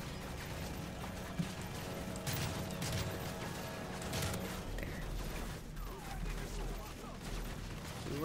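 Enemy gunfire in the video game Modern Warfare 3 Spec Ops, scattered shots and cracks at moderate distance over a busy battlefield din, with faint voices under the action.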